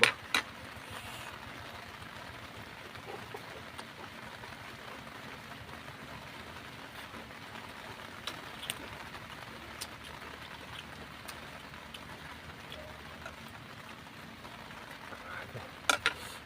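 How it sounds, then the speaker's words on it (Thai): Heavy rain falls outdoors as a steady, even hiss with occasional sharper drip taps, fairly faint and constant throughout, with a low idling hum in the background. "ฝนมากเลยพี่น้องเลยยิงเสียงฝน"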